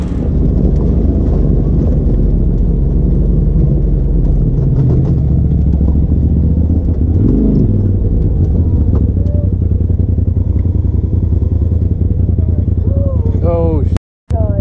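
A hillclimb vehicle's engine revs loud and constant at an off-road event, heavy wind buffeting the microphone throughout, with a pitch sweep midway and a brief cutout near the end.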